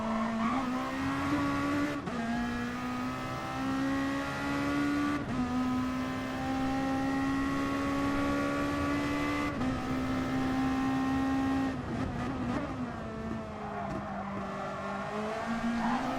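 A race car in a racing game sweeps around a corner, its engine droning loudly and steadily with tire squeal, pitch shifting with each gear change over the whole stretch.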